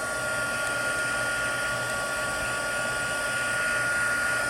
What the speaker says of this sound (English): a heating tool and you can dry this pretty quickly